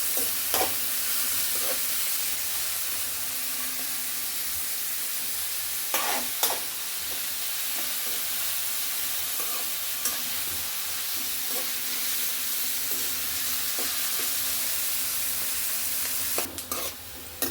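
Steady sizzling of ginger frying in hot oil until brown, with occasional scraping clicks of a spoon stirring the pan, continuous and close, no voices.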